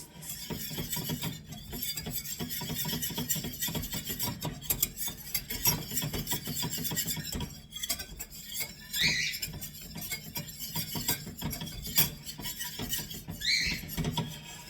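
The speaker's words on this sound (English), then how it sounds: "I use a whisk to make sure I thoroughly mix this." A whisk works through a mayonnaise mixture for chicken salad in a bowl, a close, busy rhythm of scraping and tapping against the sides that runs steadily, with a couple of brief pauses.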